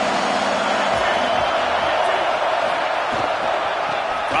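A stadium crowd at a Tennessee vs LSU college football game makes a steady, dense roar that fills the whole stretch, with faint thumps and scattered shouts buried inside.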